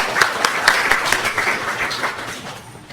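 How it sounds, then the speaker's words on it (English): Applause from an audience greeting a speaker at a beginner Autodesk Revit BIM workshop, a brief burst of moderately loud clapping that thins and fades away within a few seconds. "Please help me to greet him warmly with a big applause."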